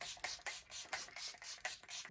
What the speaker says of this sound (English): So now I'm going to spritz again with the spray.